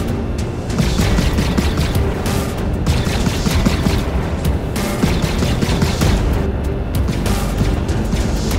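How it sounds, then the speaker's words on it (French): Turret guns on a ship in Star Citizen fire continuously in rapid, loud sustained bursts for the whole stretch, with no pauses between volleys and no voices. "J'ouvre le feu, c'est parti."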